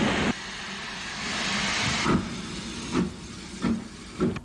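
An elderly Stirling-designed O1 class steam locomotive works a Southern Railway Hythe branch train, giving a steady loud hiss with rhythmic chuffs recurring near the end, heard on an old archive recording.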